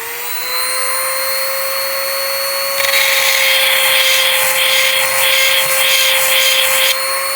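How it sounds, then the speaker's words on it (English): An EzzDoo electric chainsaw sharpener's motor hums steadily, then a harsh grinding rasp joins in and pulses in short repeated passes on the chain before stopping while the motor keeps running. "this is to use to sharpen the chainsaw blade"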